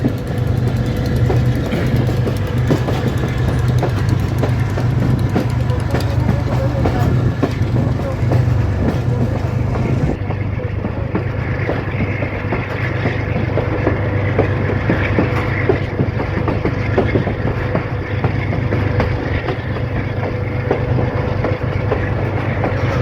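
The Bolan Mail Express passenger train runs on rails in Pakistan, with a loud, continuous rumble and rhythmic clickety-clack heard from on board, and a voice speaking over the noise.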